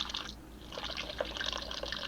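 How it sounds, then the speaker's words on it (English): A water cooler in an attic gurgles and trickles in a steady run of bubbling, dripping water, fairly faint and heard on its own, with a brief pause early on. "Apparently you have a water cooler in your attic now."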